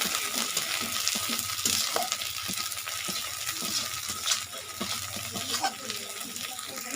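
Turmeric and chili powder are stirred into a frying masala in a pan, with a steady bright sizzle and a spoon scraping and stirring in irregular strokes close by; a faint voice murmurs under it.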